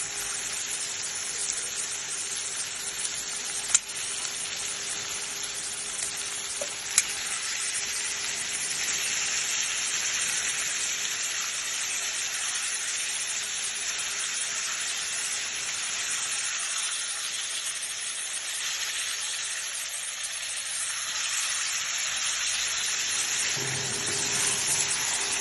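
Chicken fries in spiced oil for a curry, giving a continuous, moderate hiss and sizzle that stays even throughout with only a couple of faint clicks and no speech.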